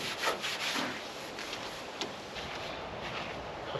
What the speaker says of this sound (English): I think I'll start sanding on it for the rest of the day.